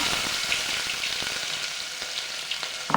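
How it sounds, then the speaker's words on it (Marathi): Onion fries in hot oil with cumin, mustard seeds and garlic. The sizzle is steady and close, with light stirring scrapes and a few soft clicks, and no voices. "कांदा व्यवस्थित तेलामध्ये भाजून घ्यायचा"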